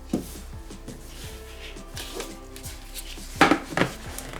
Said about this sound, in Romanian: Am să-l pun într-un bol. Am să pun un capac peste.